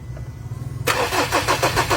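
A Ford Everest engine cranks without catching: a low starter hum first, then a loud rhythmic churning of repeated cranking strokes, close and with no voices.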